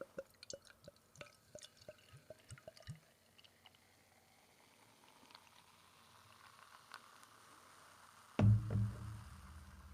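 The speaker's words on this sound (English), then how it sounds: "There you go. There's your ASMR. Quite bubbly, this one." Sierra Nevada Pale Ale poured into a glass, with a run of distinct drips and glugs early on, a long quiet fizz of rising bubbles, then a loud close splash near the end.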